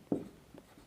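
Writing out a ketone chemical formula during a science lesson: two short scratchy strokes, close and fairly faint, with a quiet pause between them and no talk.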